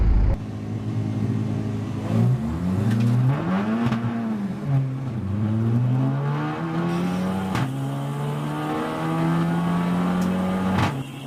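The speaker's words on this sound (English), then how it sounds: "the 2 front row cars setting off side by side" Race cars, including an Audi TT and a VW Golf, roar and rev hard as they pull away from a trackday race start, pitch rising and dropping through gear changes, loud and close for the whole stretch.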